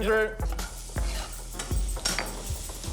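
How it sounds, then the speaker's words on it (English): Garlic and chili sauté in butter in a pan, with close, busy stirring and scraping under a soft sizzle and a few knocks of utensils. "I'm going to saute the garlic and the chili."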